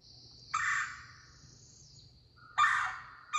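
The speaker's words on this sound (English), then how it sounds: "this is a red-bellied woodpecker" A red-bellied woodpecker gives loud, rolling churring calls, three separate bursts spaced apart, clear and close against quiet background hum.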